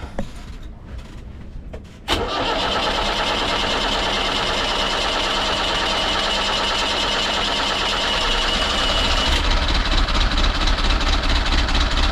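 A boat engine starting up after being primed with fuel, settling into a steady, slightly rough idle with an injector left open, loud and close with a continuous mechanical clatter and no talk.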